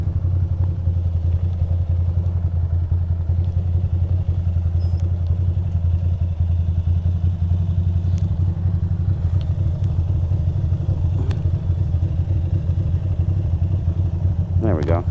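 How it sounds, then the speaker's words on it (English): A motorcycle engine runs steadily at idle or low speed on a commute, a continuous low hum with faint clatter, close and fairly loud throughout. "I'm trying to listen to my bike to see if it really is doing what I think it's doing."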